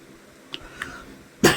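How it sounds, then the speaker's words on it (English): Two faint throat sounds, then one short, sharp cough close to the listener. "Sorry, I'm coughing."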